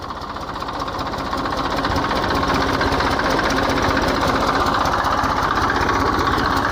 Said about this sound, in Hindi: ट्रैक्टर को बड़े ही स्लो चलाया जाता है जिससे बीज डालते समय पूर्ण रूप से सावधानी रखी जा सके।